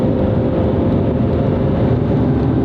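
A Lamborghini Gallardo with full headers and no mufflers makes a loud, dense, steady engine and exhaust roar that stays constant and close throughout, with no talk over it.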